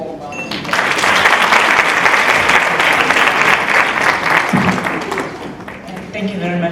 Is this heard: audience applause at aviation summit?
yes